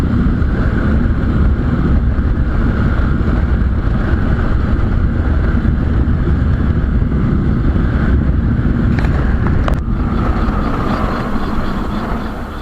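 Loud, constant wind roar buffeting the microphone, heavy low rumble throughout with a brief scraping sound near the end.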